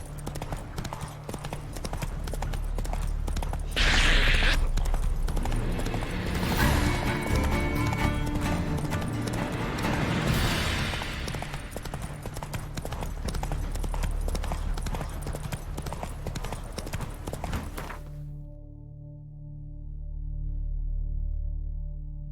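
Roach, the horse in The Witcher 3, clip-clops steadily across the ground at a close, loud level, with a short whinny-like burst near the start and game music beneath. The hoofbeats stop abruptly near the end.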